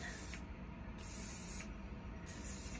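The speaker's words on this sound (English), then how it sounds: "I'm gonna take my hairspray, slick it down" Hairspray from an aerosol can misted onto hair to slick down a French twist, three short close hisses in a row, each lasting under a second.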